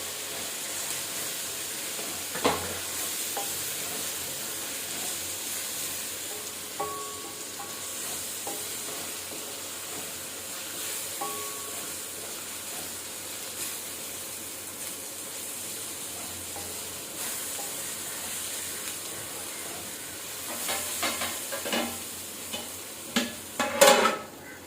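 Chopped tomatoes fry with ginger garlic paste in a pan for a Kanyakumari Malayali-style chicken curry, a steady close sizzle with stirring scrapes and a few louder clinks toward the end.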